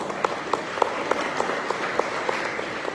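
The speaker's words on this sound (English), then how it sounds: "a round of applause" An audience at a community event about the Belize Constitution claps, with close, steady, evenly spaced hand claps rising over a continuous bed of applause for a few seconds.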